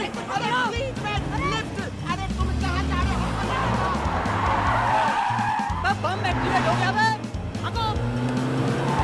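A car speeds off with squealing, skidding tires amid engine roar and passing-vehicle noise, while people talk and shout excitedly over the commotion throughout.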